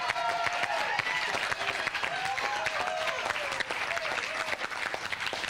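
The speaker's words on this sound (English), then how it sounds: "What a loud and lively crowd." Crowd at a high school basketball game applauding and cheering steadily throughout, dense clapping with whistles and shouts blended in, loud and sustained with no break.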